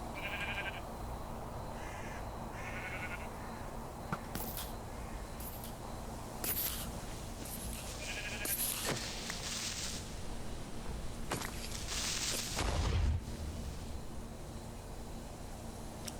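Sheep in the Minecraft video game bleat in several short, repeated calls over a faint steady background, with sharp intermittent game sounds scattered between them.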